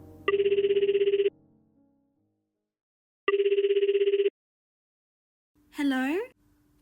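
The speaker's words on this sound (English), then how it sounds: "I'll just call you on the phone." A telephone rings twice in a steady electronic warble, each ring about a second long with a pause between, followed by a brief rising tone at the end; close and clear against silence.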